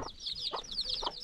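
A mother hen clucks in short low bursts, about three in quick succession, beneath a continuous chorus of high-pitched peeping from her chicks, heard up close in a backyard coop.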